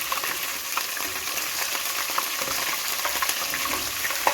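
Chillies fry in a pan on a stove with a continuous bright crackling sizzle and scattered pops at moderate loudness, with no talking.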